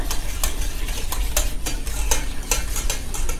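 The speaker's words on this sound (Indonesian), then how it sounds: "Kemudian ini aduk dulu biar maizenanya tercampur ya." A cornstarch mixture with liquid milk is stirred in a pan, and a utensil scrapes and clatters against the metal in steady, repeated strokes. The strokes are close and moderately loud, with no voices over them.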